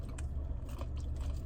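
Close, crisp crunching bites into fried chicken skin, repeated quickly over a brief moment with no talking.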